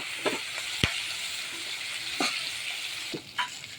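Fish frying in hot oil with one side already browned, giving a steady close sizzle broken by a few sharp taps of a utensil against the pan.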